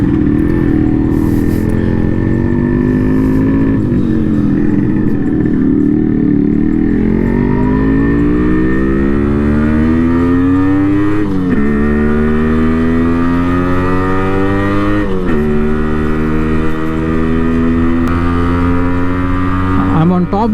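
A 26-year-old Yamaha RX 100 two-stroke motorcycle with drum brakes front and back pulls steadily in top gear, its engine droning loud and continuous as the pitch climbs and dips over about twenty seconds.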